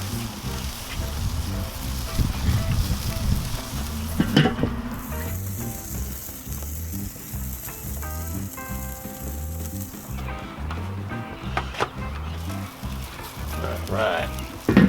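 Beef and bacon burgers sizzle on a Weber kettle grill, a loud, continuous crackling hiss that stays close and steady throughout, with a few sharper pops scattered through it.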